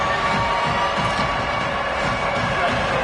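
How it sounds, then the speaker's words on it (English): A football stadium crowd at a Gators game roars steadily as fans rally behind the defense on a big third down, a dense continuous wall of cheering with a commentator's voice beneath. "Big third down as the crowd gets behind this defense."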